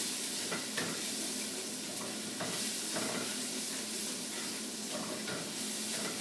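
Garlic and jalapenos frying in a pan, a steady, loud broadband sizzle with faint stirring scrapes dotted through it.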